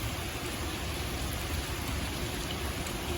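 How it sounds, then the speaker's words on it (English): Heavy rain from Tropical Storm Isaias in the New York and New Jersey area pours down without a break, a dense and even wash of drops striking surfaces close by. "You can hear the rain."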